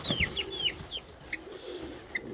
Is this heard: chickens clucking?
yes